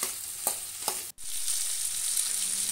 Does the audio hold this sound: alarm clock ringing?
no